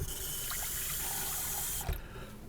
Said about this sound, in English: If you run out of milk, just grab you a little bit of water.